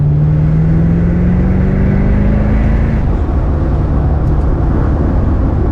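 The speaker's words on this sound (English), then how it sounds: "that V8 soundtrack is such a pleasure to hear once you're kind of shifting through the gears" Mercedes AMG DTM race car with a V8 engine, loud and close, its tone climbing steadily then dropping sharply at a gearshift and pulling up again in the next gear.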